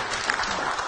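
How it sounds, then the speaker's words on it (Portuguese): Audience applause in a hall during a talk by fashion designer and businesswoman Ana Lucia Otto, a steady, dense wash of clapping that holds evenly for just under a second with no voices over it. "Vamos aplaudir novamente"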